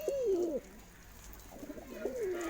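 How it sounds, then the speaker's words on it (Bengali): Pigeons brought from Kolkata cooing nearby, two soft throaty coos separated by a short pause, faint background hum. "প্রথমে তোমাদেরকে দেখাবো যে কবুতরটা আমরা বাইরে থেকে এনেছি"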